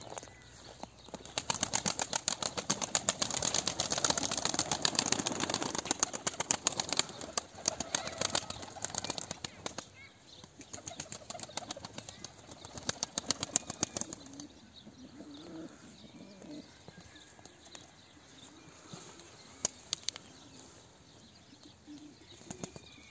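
Pigeons in a flying loft, with bursts of wing flapping and rustling alongside soft low cooing, busy at first and then thinning out to scattered flutters and quiet calls.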